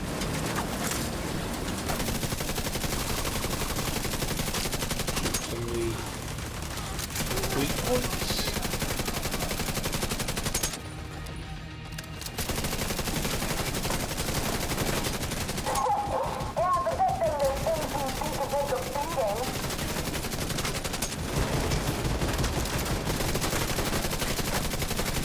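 Turret gunfire in The Division 2 on Wall Street, a busy run of shots and bursts that carries through most of the stretch at a steady level, with the game's ambient noise and music beneath and a brief dip near the middle.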